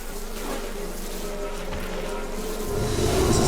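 Wasps attacking in the game Fear Equation make a constant, dense buzzing drone that swells louder in the last second, with no voices over it.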